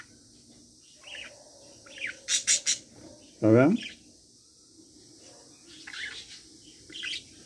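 A newly hatched parakeet chick gives thin high chirps, and an adult parakeet adds a few brief squawks and one loud harsh call at close range, while a person speaks briefly in between.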